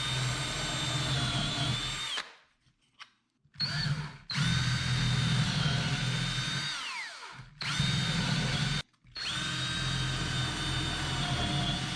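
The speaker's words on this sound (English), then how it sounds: "I'll drill out some holes on the corner so that the top aligns with the pine slab underneath" A power drill boring holes into the corners of a plywood tabletop, running loud and steady in close bursts with a few short pauses between holes, the pitch sliding down as the bit bites into the wood.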